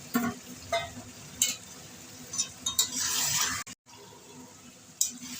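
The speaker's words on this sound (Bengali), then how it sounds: "একসঙ্গে আলু দিয়ে মাংস দিয়ে ভালো করে কষাবো" Chicken and potatoes are stir-fried together in a pan for a thin red chicken curry, a steady sizzle broken by several sharp scraping stirs and a brief silent gap near the end.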